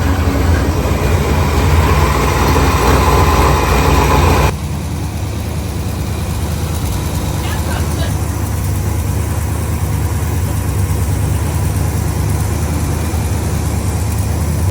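A 1964 Studebaker Avanti engine runs steadily at idle, a loud continuous rumble close by with no talk, dropping to a slightly lower, smoother drone after a few seconds.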